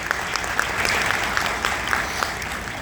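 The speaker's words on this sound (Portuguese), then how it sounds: "eu queria pedir também uma salva de palmas para todos os técnicos que dão suporte para a nossa universidade." An audience at a 2025 UFRA computing licentiate graduation ceremony applauds steadily, with dense, continuous clapping throughout.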